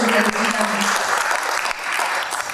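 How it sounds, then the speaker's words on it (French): An audience claps together in dense, steady applause, loud and close, with a brief voice at the start. "nous pouvons l'applaudir"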